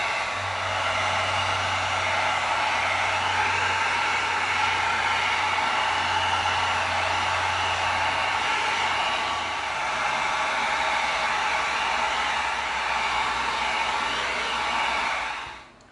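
A heat gun runs continuously over small raw EVA foam pieces to heat seal them, giving a loud, close, steady whooshing blow with a low hum that drops slightly midway and cuts off at the end.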